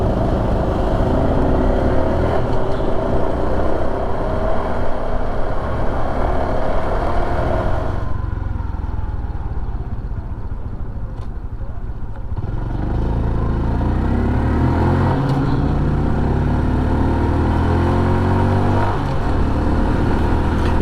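A Honda Super Cub motorcycle fitted with its original exhaust hums steadily while being ridden on a commute, with engine pitch rising and falling through gear changes and wind rush throughout.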